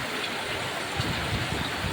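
Sudden rain falling as a steady, dense hiss of noise with no distinct drops, unchanging across a short stretch, no one speaking.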